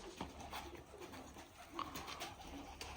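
Domestic double-crested Pavlodar tumbler pigeons coo softly in a loft with nesting birds and chicks, giving a few faint, low, repeated coos against a quiet background.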